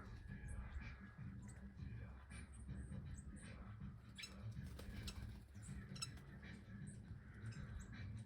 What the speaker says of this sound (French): Il y a des oiseaux verts là.